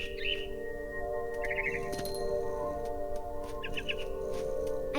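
Mama bird chirping in the video game What Remains of Edith Finch: brief trilled chirp bursts repeating a few times over a quiet tonal game ambience, faint and mid-distance.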